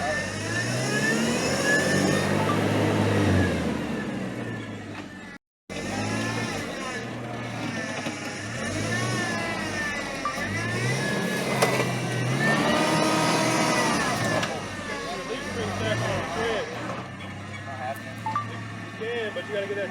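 Jeep Comanche MJ with a 102-to-1 crawl ratio transfer case, engine grumbling low and revving unevenly while backing over a large off-road obstacle, with people talking over it throughout.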